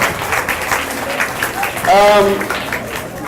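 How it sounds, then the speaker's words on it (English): An audience at a school graduation ceremony claps in a short, loud burst of applause, close and dense, with a voice speaking over part of it. "a round of applause for Ms. Summer"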